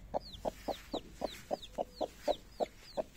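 Black Brahma hen clucking steadily at close range, about a dozen soft, evenly spaced clucks in a regular rhythm, with faint higher chick peeps between them.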